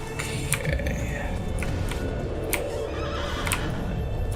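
A horse neighs and whinnies in Assassin's Creed II, a clear, fairly close call over steady in-game ambience with faint hoof clip-clops, while a voice talks over it.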